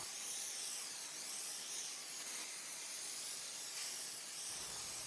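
A steady, close aerosol hiss of 3M 90 spray adhesive sprays continuously for several seconds onto copper sheet and cedar, bright and airy, with no voices.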